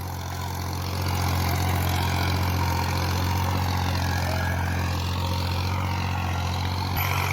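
A tractor engine runs continuously on a village farm, a steady low drone with a constant hum and no talk over it.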